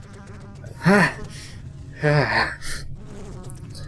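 Swarming flies buzz in a horror video game scene, two loud rising bursts of whining drone close to the ear over a steady low hum, with a brief breathy gasp between them.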